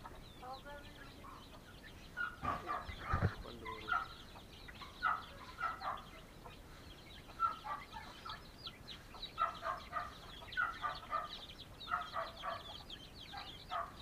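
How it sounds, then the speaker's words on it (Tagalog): Native chickens clucking on a rural Philippine farm, a steady series of soft repeated clucks at moderate distance over a constant outdoor hiss, with one brief louder knock partway through. "At mayroon din akong mga alagang native na manok."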